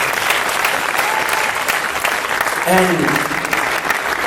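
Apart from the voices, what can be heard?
applause for Professor Sangeeta Gadve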